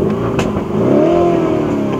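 A Lamborghini Urus engine revs hard and close, a loud rising roar that swells and holds for a couple of seconds on its own.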